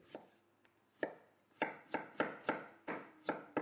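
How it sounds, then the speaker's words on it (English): A kitchen knife slicing garlic and ginger into matchsticks on a cutting board, a few scattered cuts settling into a quick, steady run of close, crisp chops with no talking. "So I'm just going to slice it into little matchsticks."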